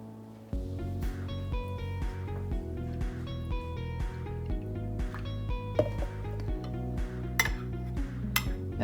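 Whole milk mixture stirred in a glass, a spoon clinking and tapping rhythmically against the sides in a quick repeated pattern, bright ringing chimes over a steady base, close and moderately loud.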